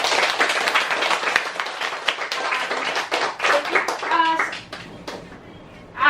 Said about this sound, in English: please join me in giving a round of applause for Dr. Frisno